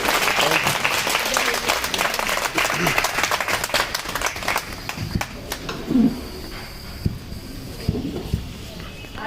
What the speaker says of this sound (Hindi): सभी से निवेदन है कि खुले दिल से सभी ताली बजाकर स्वागत करें